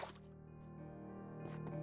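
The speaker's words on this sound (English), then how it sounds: "So now we can start using our water buckets and start filling in the collection system." Water poured from buckets into a block collection system in Minecraft Bedrock, giving soft dripping, squishy liquid splashes with brief bursts, close and fairly quiet, no talking.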